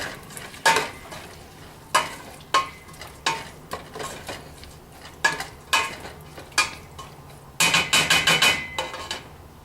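Green beans are stirred with olive oil in a pan, giving irregular close scraping and clattering strokes that end in a quick burst of rapid stirring, with no talking.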